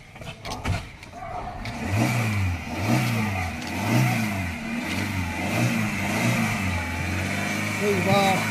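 A Maruti Eeco van's engine catches after a push start and revs up and down in loud, close surges before settling, while someone speaks over it.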